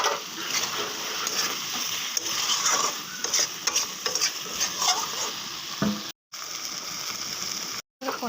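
Fish curry with potatoes sizzles in a pan, with a spatula stirring and scraping it steadily, close and fairly loud. The sound drops out twice near the end.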